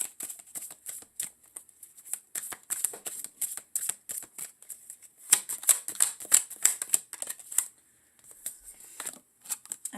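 Tarot and oracle cards shuffled by hand in a quiet room, a long run of dense, crisp riffling bursts with brief pauses between, close and moderately loud, no talking.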